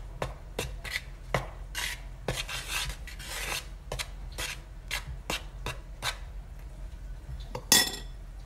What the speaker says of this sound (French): je vais mélanger la farine